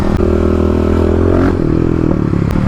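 A Kawasaki KLX250 dirt bike slides low around a corner, its engine droning steadily and loud up close with a faint scraping clatter, no talking.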